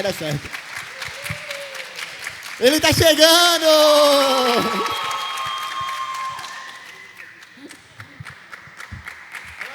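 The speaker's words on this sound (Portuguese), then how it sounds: "vocês recebessem com muitas palmas, Levi e Bruna! Mais palmas!" Church audience applauding and cheering loudly as two guest ministers arrive, with a sharp surge of clapping, shouts and whistles that swells and then tapers off, mixed under an excited speaking voice.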